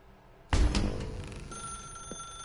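A telephone rings in the video game The Stanley Parable, starting abruptly with a loud burst after a quiet moment, then a sustained ringing tone that fades slightly.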